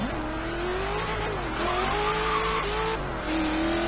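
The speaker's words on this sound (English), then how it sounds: "It does like to spin up its rear tires quite a lot." An HSV GTSR in Forza Horizon 3 spins its rear tires, its engine droning and rising in pitch while the tires squeal, loud and continuous throughout.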